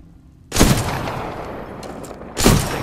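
Two loud sniper rifle shots ring out in the video game Titanfall 2, each a sharp crack with a long booming decay, spaced about two seconds apart.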